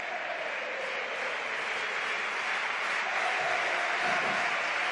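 A crowd of Real Betis supporters applauds in a football stadium, a dense, steady wash of clapping and crowd noise that holds throughout at moderate loudness with no distinct voices standing out.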